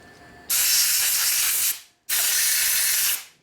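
Two loud, close blasts of compressed air blow metal chips out of a transmission part on a 1952 Harley-Davidson FL Panhead, each hiss lasting over a second and cutting off sharply, with no talking.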